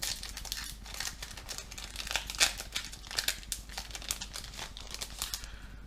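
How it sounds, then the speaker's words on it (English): Crinkly plastic wrapper of a Yu-Gi-Oh card pack being crumpled and torn open by hand close up, a run of sharp rustles and crackles in quick bursts. "let me see if I can open one of these packs without cutting it with scissors"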